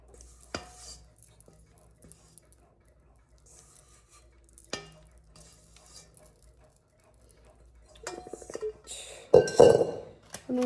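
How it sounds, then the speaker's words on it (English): Sparse clinks and scrapes of a utensil against a bowl as pumpkin roll batter is scraped out, quiet at first with a few isolated taps, then busier, louder scraping and clatter near the end. "Scrape all of that out."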